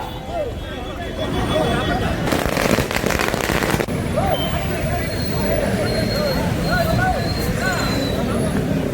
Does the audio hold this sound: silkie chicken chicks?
no